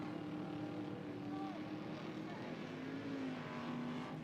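Race cars run at Robertson Prestige International Speedway, a faint, distant, continuous engine drone with rising and falling pitch as cars pass, with a commentator's voice under it.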